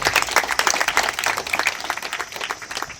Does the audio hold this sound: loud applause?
yes